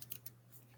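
Light computer keyboard typing, a few quick faint keystroke clicks close by over a steady low electrical hum, no voices.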